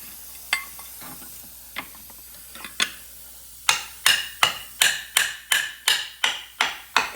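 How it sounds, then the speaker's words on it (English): A few scattered taps, then a steady series of sharp metallic hammer blows driving a tight axle mount onto a 4.7L all-wheel-drive Jeep Commander, about ten strikes in a regular rhythm, loud and close. "Maybe I can hammer it on there"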